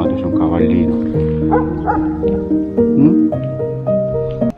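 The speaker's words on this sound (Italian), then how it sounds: "Quello è un cagnolino." A small dog barks in short yappy bursts, close and loud, while a person chats over it during a rainy walk on the Portuguese Way of the Camino de Santiago; rain and water sounds are faint underneath.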